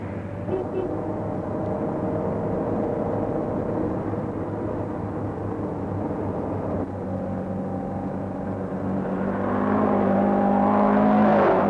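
1971 Circuit of Ireland rally cars drive down the motorway at night, a steady engine drone that swells louder near the end.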